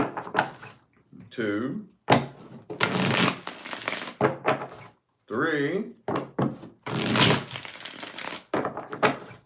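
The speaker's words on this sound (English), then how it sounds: "5 shuffles here." A deck of tarot cards is shuffled in several short riffling bursts, alternating with a person speaking close by.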